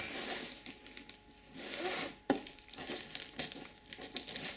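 Wrapping on a shipped package crinkles and rustles as it is opened, with bursts of close, quiet handling noise, a sharp snap midway and short pauses between.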